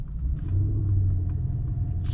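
A 2024 Mercedes S580's V8 engine in Sport Plus mode gives a low, steady rumble from inside the car while driving, with faint clicks over the drone.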